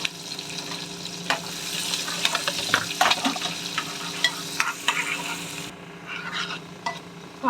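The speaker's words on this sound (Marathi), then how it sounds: "तो पूर्ण तांबूस कलरचा होईपर्यंत फ्राय करायचा आपल्याला।" Onion and green chilli sizzling and frying in a pan until browned, with steady crackle and repeated stirring scrapes throughout, close and fairly loud, no talking.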